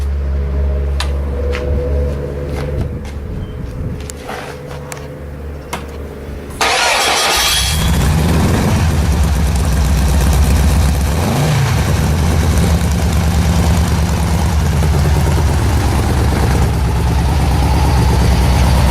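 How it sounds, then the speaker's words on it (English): A gaseous-fueled test engine cranks briefly, catches, and roars to life, then keeps running with a loud, steady rumble and occasional revs. "So you ready to start the engine?"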